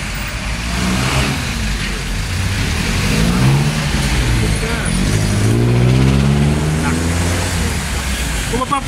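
Cars and other vehicles pass along a suburban city road, their engines swelling and fading as they go by, with a steady traffic rumble underneath and people talking over it throughout.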